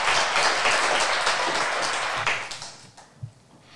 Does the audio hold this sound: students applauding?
yes